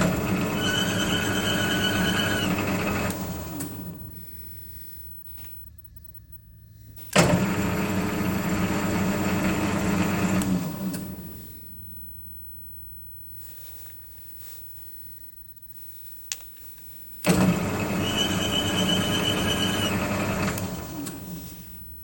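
Lathe cutting an internal left-hand TR28 x 5 trapezoidal thread with quarter-millimetre passes, a steady machine whine and grinding hum in three long runs separated by quieter pauses, with no talk.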